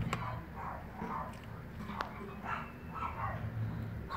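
A dog walker's dogs barking and yipping in an alley, with scattered short barks and whimpers at moderate distance over a low background rumble.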